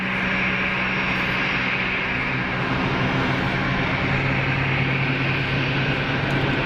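Jet engines spool up at Geneva Airport, a steady, broad roar and hum holding evenly throughout, heard from a distance with no voices.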